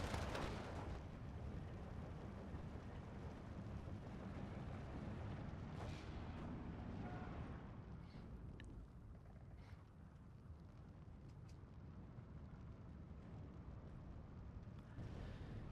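Artillery fire in the strategy game Steel Division 2, on the Brest West map, comes as a steady, muffled wash of distant booms and rumbling blasts that blend into a continuous low roar at low volume.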